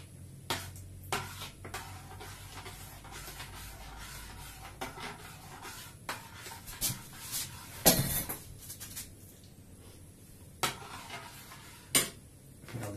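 Instant mashed potato being stirred in a bowl with a spoon, giving a run of scraping and clinking utensil taps against the dish, irregular and close, with a sharper knock around the middle and near the end.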